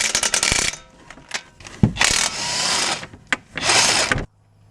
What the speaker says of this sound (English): Okay, these are 17 millimeter. So using impact and socket.